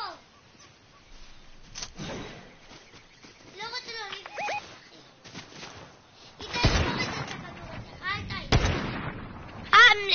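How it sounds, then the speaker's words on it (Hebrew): Gunfire rings out in a PS4 video game: several sharp, loud shots and blasts burst out irregularly in the second half, with a voice talking and game sounds in between. "יש שם גם יריות."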